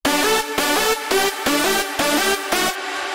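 A UK hardcore lead chord stack drenched in long reverb stabs in a choppy rhythm, about six bright, loud chord hits with short gaps, ending in a fading reverb tail.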